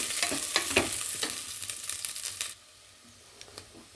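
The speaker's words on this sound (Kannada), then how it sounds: "ಬೆಂಡೆಕಾಯನ್ನು ಹಾಕ್ಕೊಂಡಿದ್ದೀನಿ ನಾನು ಸ್ವಲ್ಪ ಹುರ್ಕೊಳ್ಳೋಣ" Okra (ladies' finger) stir-frying in a pan for sambar, a busy crackling sizzle with stirring scrapes that drops to a quieter, steady fry with occasional pops near the end.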